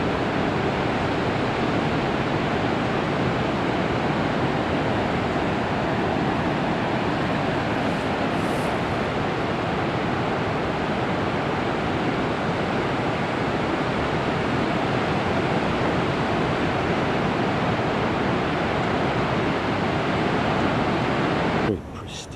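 A continuous roar of ocean surf breaking on rocks along the Oregon coast, broad and steady, washing on without distinct pauses for the whole stretch.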